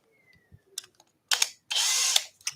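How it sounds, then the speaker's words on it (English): A power drill bores through wood on a workbench in two short bursts, the second a sustained whine of about half a second, separated by light clicks and handling knocks in an otherwise quiet workshop. "So just a quick little drill back on the bench."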